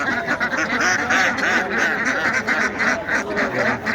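Several ducks quack loudly and repeatedly in a busy, overlapping chorus among other poultry at an animal market, close by, with no talking.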